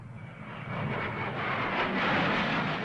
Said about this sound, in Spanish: aviones Hunter británicos descendieron en picado sobre el Palacio Presidencial de la Moneda